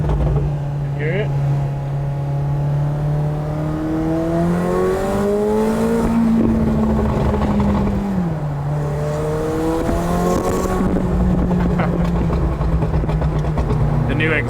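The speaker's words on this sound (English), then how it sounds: "The new exhaust sounds crazy." A sports car with a new exhaust revving up and down loudly and steadily, engine pitch rising and falling over a sustained drive.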